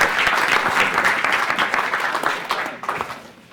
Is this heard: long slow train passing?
no